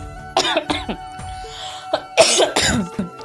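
A woman with a lingering cough coughs and clears her throat in several short, harsh bursts at close range, with a quieter pause partway through.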